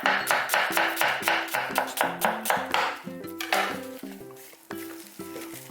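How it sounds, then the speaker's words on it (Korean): A knife thinly slices onion on a cutting board in quick, regular rhythmic chops, loud and close, with faint music underneath. "양파 먼저 얇게 해갖고 채를 쓸어주세요"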